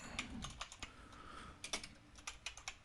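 Fingers tap quickly on a computer keyboard, a close run of crisp irregular keystrokes with a short pause midway, alone without voices.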